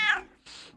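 Panda, a pet cat, lets out a sharp meow followed quickly by a softer second one, both near and clear, with no speech.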